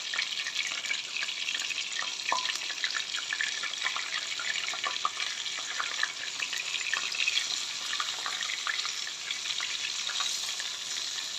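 Fish frying in hot oil with a lemon in the pan, a steady, close, continuous sizzle and crackle that runs alone throughout without any talk.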